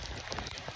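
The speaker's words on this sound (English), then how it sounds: "Real rain. Real rainy day." Steady rain falls outdoors, a soft continuous hiss of drops with no voices.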